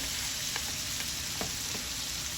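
Red pepper and onion sizzle steadily in a hot skillet with kielbasa for a cabbage dish, a constant bright hiss with a few soft clicks of stirring, close and even throughout.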